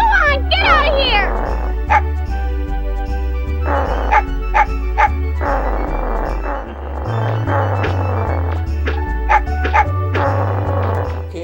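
A dog barks and yips repeatedly in the Mega Man Legends video game, sharp clipped barks in an irregular rhythm over looping game music and other game sounds.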